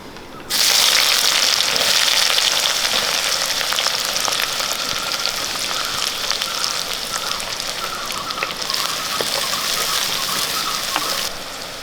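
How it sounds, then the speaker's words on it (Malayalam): Mustard seeds, fenugreek and sliced shallots drop into hot oil for a Kerala-style fish curry, setting off an abrupt, loud, steady frying hiss with faint crackles that runs for about eleven seconds before cutting off. "കാൽ ടീസ്പൂൺ കടുക് ഇട്ട് കൊടുക്കാം കാൽ ടീസ്പൂൺ ഉലുവ ഒരു പത്ത് ചുവന്നുള്ളി അരിഞ്ഞത് ഇട്ട് കൊടുക്കാം"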